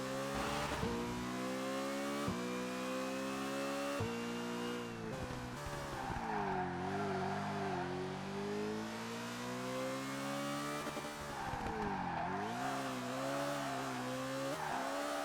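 Race car revving hard and drifting through a corner in ToCA Race Driver 2, a V8 Supercar engine whining and shifting pitch continuously with tire squeal, loud and steady throughout.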